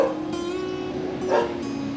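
Dogs barking near a small rural earth-god shrine in the Bengang area of Taiwan, a few faint yips and barks in sequence at moderate distance over a quiet steady background.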